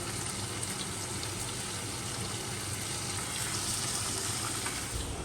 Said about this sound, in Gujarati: દાળ ઉકળે એની રાહ